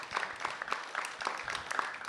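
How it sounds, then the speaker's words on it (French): A small audience at a talk gives a short round of applause, steady moderate clapping heard from a little distance with no voices over it. "On lui transmettra vos applaudissements."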